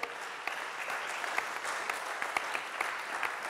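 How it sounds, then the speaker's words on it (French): An audience at a round-table discussion applauds warmly to welcome France's Culture Minister Franck Riester, a steady, moderately distant clapping with a few sharper individual claps standing out. "On peut l'accueillir là aussi sous des applaudissements chaleureux."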